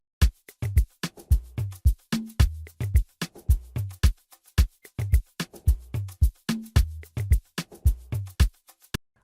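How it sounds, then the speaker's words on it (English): Amapiano drum groove with a clap layered over toms and percussion: bright, snappy claps and low tom thumps repeating in a tight, syncopated loop, upfront and dry, with no talking. "And then we added a clap that sounds like this."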